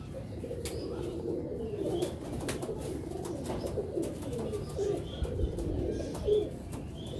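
Pigeons in a loft of doome kabutar breed coo softly and repeatedly at moderate distance, mixed with faint chirps and rustling and a low background murmur.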